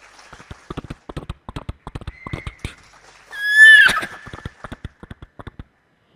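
A voice mimics a horse: a run of rhythmic tongue clicks like hooves, then a loud, shrill whinny, then more clicking hoofbeats.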